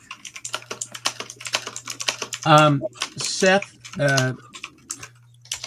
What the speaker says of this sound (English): It sounds like someone's clickety clacking. Sorry, that's my keyboard.